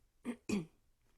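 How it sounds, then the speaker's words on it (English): Two short, gruff throat-clearing bursts in quick succession, close and fairly quiet, then silence. "I'm going to clear my throat one more time."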